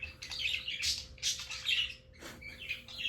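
Pet birds squawking and chirping indoors in repeated harsh bursts, fairly close and loud, with a faint steady hum in the background and no talking.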